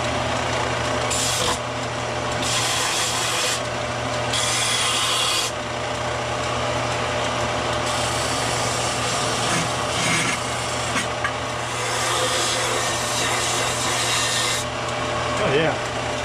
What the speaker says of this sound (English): Let's round off some corners here.